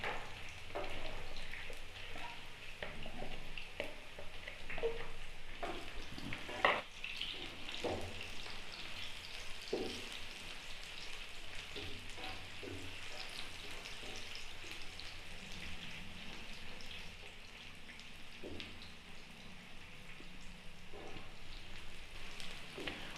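Onions and finely chopped garlic fry in a pan for a Kaleeji Qeema, a steady low sizzle and crackle with scattered pops and stirring scrapes, close and continuous with no talking.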